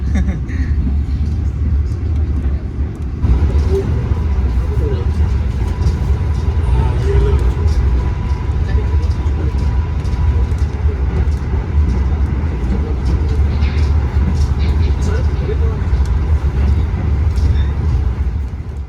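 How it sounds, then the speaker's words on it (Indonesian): Gajayana executive train on the Malang–Jakarta line running at speed, heard from inside the carriage: a steady, loud low rumble and rattle of the rolling coach continuing throughout, with occasional faint voices. "Dan ketika keretanya berjalan di kecepatan segini, di dalam kereta ini agak goyang-goyang gitu ya teman-teman ya."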